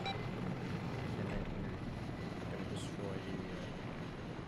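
Continuous thrumming of a Mi-24 helicopter's rotor and engine in the video game Arma 3, steady and fairly close, with a faint voice underneath at times.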